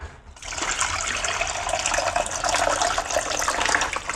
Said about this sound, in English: I fill my water.